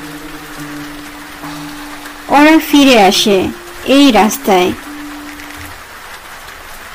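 A steady rain hiss runs through a cartoon ghost story and keeps on beneath a voice narrating.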